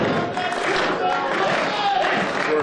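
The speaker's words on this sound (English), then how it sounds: "That's the crowd noise I'm talking about right there." Dense, continuous roar of a wrestling crowd filling an arena, loud and sustained with scattered cheers and claps blending together.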